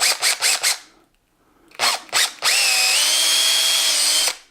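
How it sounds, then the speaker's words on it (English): A power drill driving screws into plywood trim in a cabin: loud, close motor whirs in short repeated bursts, a pause, two more quick bursts, then one sustained high whine before it cuts off, with no talk. "I'm gonna get to screwing these pieces in the cabin."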